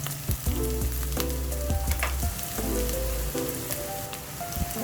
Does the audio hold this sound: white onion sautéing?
yes